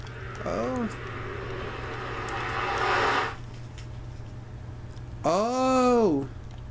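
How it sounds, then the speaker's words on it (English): A failing airplane engine in Minecraft on PS3, two loud warbling, rising-and-falling tonal whines about five seconds apart, with a noisy roar between them over a steady low hum. "The plane crashed as you tried to fix it. The engine gave out"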